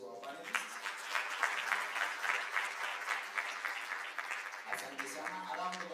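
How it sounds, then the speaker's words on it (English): Applause for the panelists at a mental wellness and counselling conference fills the room with steady, dense clapping, moderately loud, and a voice starts speaking over it near the end. "give a warm round of applause to our panelists"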